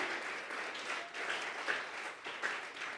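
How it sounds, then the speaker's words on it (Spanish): A church congregation at a Spanish-language service claps together in a soft, steady wash of applause, heard faintly with a few slightly louder hand claps standing out. "Vamos a regalarle ofrenda de palmas"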